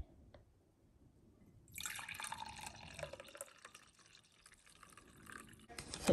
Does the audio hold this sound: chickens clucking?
no